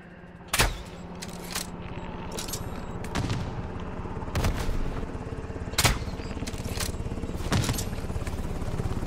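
Gunfire in the video game Call of Duty: Modern Warfare 3 cracks out in sharp, scattered shots and short bursts over a steady background hum, each report loud and distinct, spaced irregularly across the scene.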